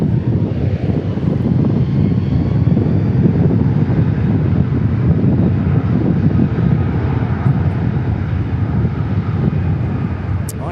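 A heavy jet airliner at DFW Airport produces a loud, steady broadband engine roar that stays strong for the whole stretch, with a wind-buffeted rumble mixed in and no talking.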